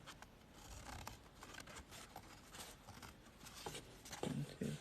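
Scissors snip through paper for a craft project in a series of faint, quick cuts at close range, with soft handling rustles and no speech.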